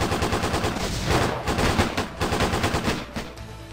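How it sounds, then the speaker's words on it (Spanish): Video game machine gun fire: rapid bursts of automatic gunfire mixed with single shots, dense and loud, repeating in a steady rattle from start to finish. "Vuelven a disparar con ametralladoras,"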